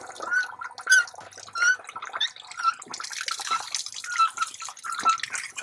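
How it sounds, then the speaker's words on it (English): Water drains from an outdoor faucet with steady gurgling, splashing and dripping, continuous and fairly close, with no talk. "There's an outside faucet I'm just gonna drain the water from."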